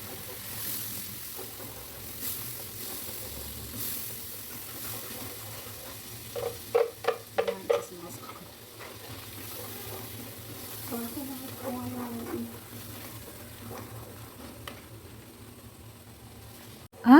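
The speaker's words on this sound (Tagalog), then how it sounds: "On mixing and frying it until the oil gets separated from the mixture" Eggplant curry mixture frying in oil while being stirred, a soft continuous sizzle with intermittent scraping strokes, fairly quiet and steady throughout.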